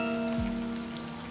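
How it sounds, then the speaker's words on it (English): Raindrops fall on a paper letter in a dramatized scene, a soft, steady patter of rain close by, continuous and alone, with a sustained low tone underneath. "The raindrops fall on the paper, landing with soft patters."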